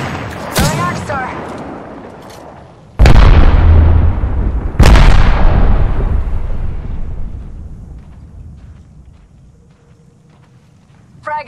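Frag grenades going off in the Apex Legends video game: two loud, heavy booms a couple of seconds apart, each with a long rumbling decay, after a sharper crack at the start, with no voices.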